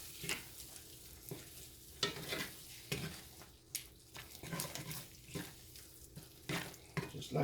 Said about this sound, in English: Now, stir this up.